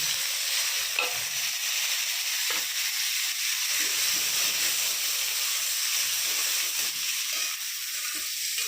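Salted water lily stems frying in a pan with radhuni spice, giving a steady loud sizzle and hiss throughout, with faint stirring scrapes now and then.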